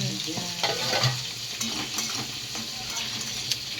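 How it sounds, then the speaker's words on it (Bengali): Flat beans (sim) frying in a pan give a dense, close sizzle, overlaid with frequent stirring scrapes and light metal clinks. "এখানে সিম ভাজা হচ্ছে"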